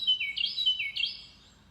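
A house finch singing near its nest gives two quick, bright warbled phrases in close succession, clear against a quiet background before fading into near silence.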